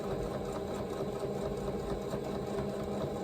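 A sewing machine runs steadily and close by while quilting a fabric Easter basket, a continuous even whir with a regular rhythmic stitching pulse and no talking.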